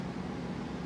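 A motorhome air conditioner roars with a steady, even broadband hum, loud and continuous with no other sounds over it.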